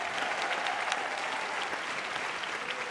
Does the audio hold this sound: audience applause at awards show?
yes